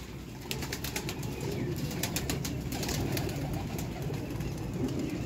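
Female pigeon in a rooftop loft setup, with soft cooing and bird sounds over a steady low background hum, moderately near and fairly quiet throughout.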